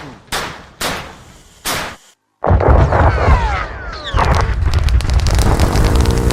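A Dodge Charger with a 5.7 Hemi V8 backfires through the exhaust in three sharp, loud blasts, falls silent for a moment, then breaks into a roaring, rattling engine run that builds as it sounds on, close by and with no voices.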